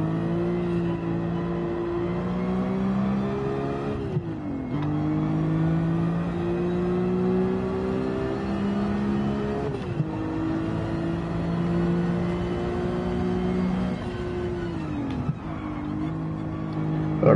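A four-wheel-drive car engine in the racing video game Gran Turismo 7 revs up and shifts through gears repeatedly, the pitch climbing and then dropping with each change, loud and continuous with no talking.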